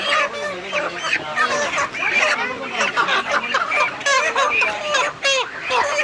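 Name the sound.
desi chickens and roosters clucking at a night market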